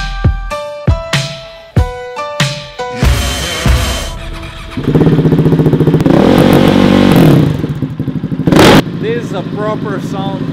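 A KTM race motorcycle engine revs in several sharp, close bursts, then holds a loud, sustained high-rev roar with rattling mechanical clatter.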